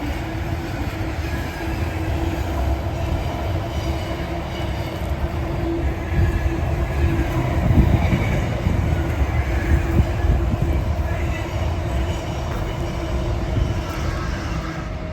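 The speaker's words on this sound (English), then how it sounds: "wait for the train to go past" A train passes nearby, a steady loud rumble of wheels and cars on rails lasting throughout, swelling slightly in the middle with faint squeal, no talking.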